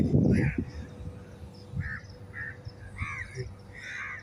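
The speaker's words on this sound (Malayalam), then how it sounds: "ഇത്രയും കൂടുതൽ കാക്ക ഞാൻ ഫസ്റ്റ് ആയിട്ടാണ് കണ്ടു ബഹ്റൈനിൽ" Many crows caw together in Bahrain, a flock of harsh calls repeating at varied distances over an outdoor hum, with a brief low thump at the start.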